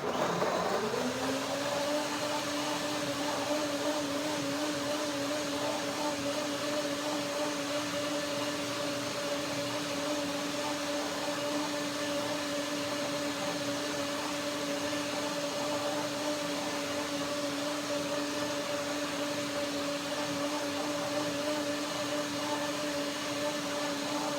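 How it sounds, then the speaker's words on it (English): A blender runs continuously, blending plums, papayas and orange juice into a salad dressing, its motor spinning up at the start and then holding a steady, loud whir with no talking over it. "Blender dance now."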